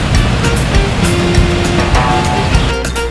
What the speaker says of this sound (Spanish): Agua Azul es una serie de impresionantes cascadas que crean albercas naturales.